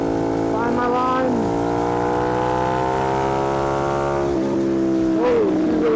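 A KTM Duke 890R motorcycle engine revs up loud and close, its pitch climbing steadily through the gears with a brief dip and rise near the end, filling the whole stretch without talk.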